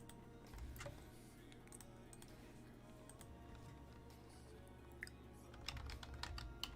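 Quiet clicking of a computer keyboard during a mobile hero game session, scattered key taps that bunch into a faster burst near the end, low under a steady background hum.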